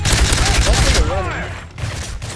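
A rapid, loud volley of gunfire in Call of Duty Modern Warfare 3, clustered shots at close range with a voice talking over part of it.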